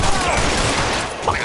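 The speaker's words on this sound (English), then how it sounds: "You're shooting at me." A rapid volley of gunfire from LA Noire crackles loud and close in a short continuous burst.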